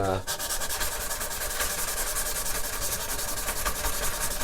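Sandpaper rubs steadily over the frets of a 1970s Crestwood 2064 electric guitar, a continuous close scratchy hiss with a quick back-and-forth texture and no pauses.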